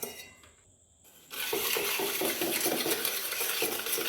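Fresh cream for ice apple ice cream is whipped in a bowl. After a brief quiet start, a close, continuous rattling whir with rhythmic scraping against the bowl runs to the end.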